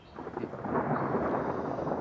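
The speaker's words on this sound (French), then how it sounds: "Il pleut des cordes, hein, vous savez." Heavy rain pours down in a dense, steady roar with a low rumbling undertone, swelling slightly and then holding constant.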